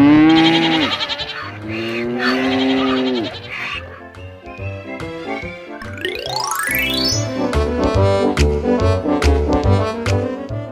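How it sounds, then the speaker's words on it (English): Farm animals, a goat, a cow and a donkey, call out one after another, with loud bleats and braying mixed with musical, cartoon-like tones, all close and prominent with no talk. "Let out the goat, the cow, and the donkey."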